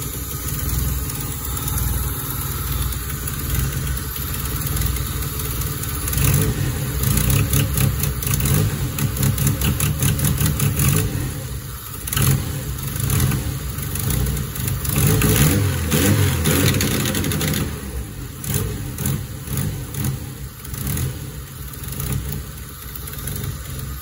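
A Honda K24 engine swapped into an Acura RSX runs loud and close, idling steadily with a stretch of rapid revs and rough pulsing in the middle before settling back to idle.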